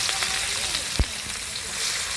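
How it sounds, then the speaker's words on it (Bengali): Chopped onions fry in hot oil with a steady, bright sizzle and one short clink near the middle. "পেঁয়াজটা লাল করে একটু ভেজে নিব।"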